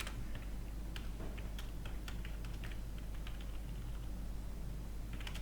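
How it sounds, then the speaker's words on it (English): Keys clatter on a computer keyboard as quantities are entered into an Excel spreadsheet, a quiet, fairly steady run of light clicks with small irregular gaps, close by and alone over a faint background hum. "here I'll type some quantities"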